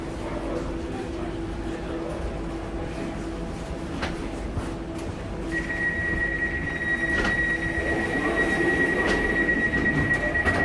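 A London Underground train to Abbey Wood rumbles steadily along the track, with a sustained high wheel squeal and occasional clacks; background voices murmur faintly.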